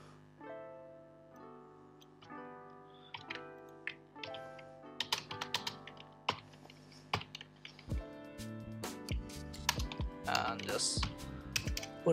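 Typing PHP variable code on a computer keyboard, a close run of quick key clicks that grows busier and louder, with a voice speaking over the keystrokes.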